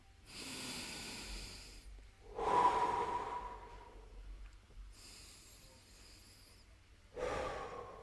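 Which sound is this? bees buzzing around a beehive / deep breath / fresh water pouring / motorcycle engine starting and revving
deep breath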